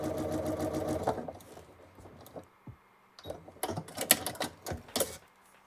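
A sewing machine stitching small blue and green quilt fabric pieces together, running in steady whirring bursts with rattling needle clatter, then pausing and restarting in shorter uneven runs, close and alone.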